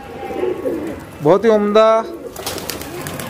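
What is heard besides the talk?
pigeons cooing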